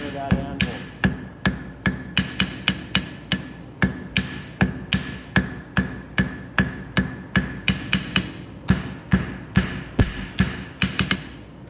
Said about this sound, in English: I'm going to push my blow a little bit so I stay on that corner of that anvil